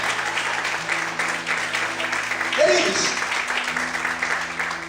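A church congregation applauds during a sermon, a loud, continuous wash of clapping throughout, with a preacher's voice speaking over it.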